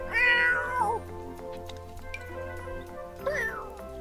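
In The Sims 4, a cat gives two distinct meows, one at the start and one near the end, over quiet game music.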